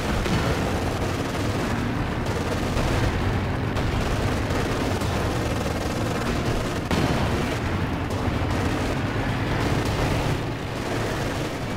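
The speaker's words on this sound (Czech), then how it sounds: "to dělo začalo střílet do toho předního panzeru a ne do toho zadního" Battle sounds from the strategy game Company of Heroes 2 as a cannon fires on a Panzer tank: dense, continuous booming gunfire and blasts, loud and layered without pause throughout.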